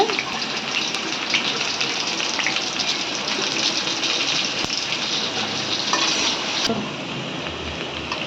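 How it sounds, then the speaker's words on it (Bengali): Onion frying in hot oil, a steady loud sizzle that holds evenly for several seconds before easing off near the end. "তেলের মধ্যে পেঁয়াজ দিয়ে দিয়েছে"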